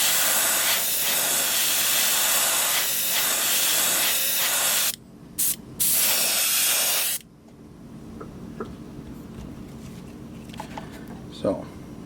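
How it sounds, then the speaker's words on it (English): An airbrush sprays orange paint onto a fishing lure in a loud, steady hiss for about five seconds, then two short bursts follow before the spray stops, leaving quiet room noise. "This one I'm just going to spray the orange over top."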